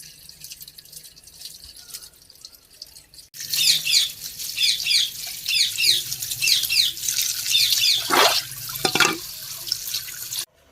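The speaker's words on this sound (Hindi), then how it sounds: "जल्दी जल्दी पहले चिकन धो के रख लेती हूँ" Tap water runs into a sink while chicken is washed in a village kitchen, a steady splashing stream starting after a few seconds of quieter dripping, with a couple of brief clunks near the end.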